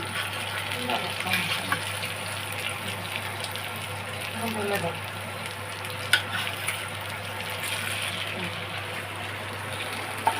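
Spices fry in a pan for a rohu fish curry, a steady low sizzle with occasional clinks and scrapes, heard under people talking nearby.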